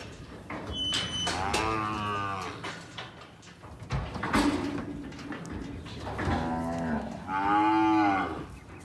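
Mustered mountain-block cattle low several times in stockyards, long drawn-out moos rising and falling one after another, fairly close with a busy outdoor background.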